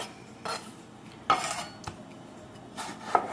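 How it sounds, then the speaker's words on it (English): Several sharp knife strikes chopping tomatoes on a cutting board, spaced irregularly, close up with faint clinks and a quiet room behind. "we're gonna go ahead and tackle the tomatoes, start chopping them down"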